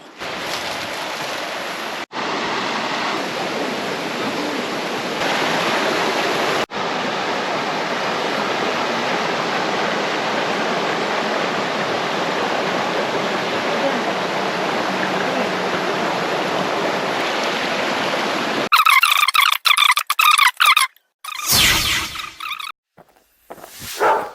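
Steady rushing water of a river in Bagac, Bataan, with a broad, even hiss, running continuously before giving way to a few seconds of abrupt clattering noises.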